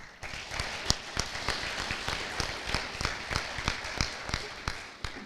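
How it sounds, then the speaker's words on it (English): Applause for award recipients at an FFA banquet, a modest audience clapping with some sharp individual claps standing out near the microphone, steady throughout. "Can we please have one more round of applause for our CDE, LDE, State Leadership Specific Events,"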